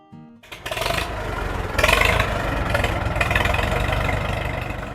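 An old red Farmall M tractor engine starts up and settles into a loud, steady running rumble close by, with slight surges in its throb and no talking.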